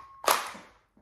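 A Nerf Rival Pilot blaster being primed gives one sharp, short mechanical clack, close and fairly quiet, that decays quickly into silence.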